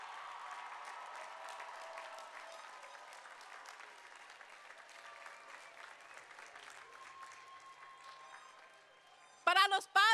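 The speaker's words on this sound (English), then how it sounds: "Get up and applaud for your families." A graduation crowd claps for the families in a long, full round of applause that gradually thins and fades, followed at the end by a short burst of a loud voice.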